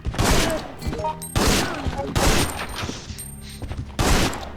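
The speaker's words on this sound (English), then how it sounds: "I hear gunfire." Bursts of heavy gunfire in the video game Biohazard Outbreak, loud repeated volleys separated by brief pauses, with scattered booming impacts and some faint voices between.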